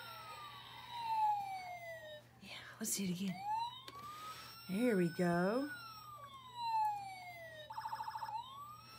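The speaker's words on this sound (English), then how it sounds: "You hear that siren?" A toy fire truck's electronic siren wails in rising and falling sweeps with a short beeping burst near the end, moderately loud, while a person talks softly over it.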